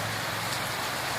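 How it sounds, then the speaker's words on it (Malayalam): Steady heavy rain pours outdoors in Edathiruthi South, a dense, even hiss of drops on surfaces with no break, and a faint low rumble of traffic beneath it. "എടത്തിരുത്തി സൗത്തിൽ നല്ല മഴയാണ്."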